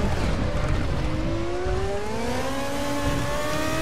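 A race car in the RaceRoom sim at Moscow Raceway revs hard, its engine tone climbing steadily over a rough, rumbling bed of noise as it skips over the curbs, loud and continuous with no talking.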